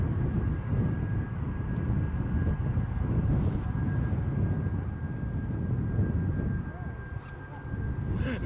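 Ryanair Boeing 737 Max 8 airliner at a gusty Edinburgh airport, a continuous broad engine roar holding steady nearby with a faint high whine running through it, no words spoken.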